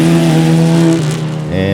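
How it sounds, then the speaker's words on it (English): Open-wheel SCCA race cars at Sebring on a wet track after rain, a loud close engine note holding steady then dropping in pitch as the cars pass through. "there's your open wheel cars coming through"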